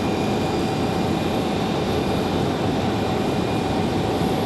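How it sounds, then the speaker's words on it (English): An American Airlines Boeing 737 departing Raleigh-Durham International for DFW gives a steady, unbroken jet roar that fills the whole stretch, with no voices. "Now, we've got another 737 American ready for departure."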